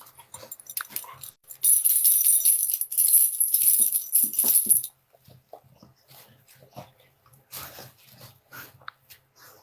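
Dogs whine and whimper indoors, with a bright, sustained high-pitched burst early on, then softer scattered whimpers and small yips in a quieter room.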